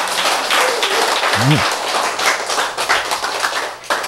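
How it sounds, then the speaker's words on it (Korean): An audience at a lecture on Korean script claps steadily in a dense, continuous patter, with a voice cutting in briefly underneath. "여러분. 박수!"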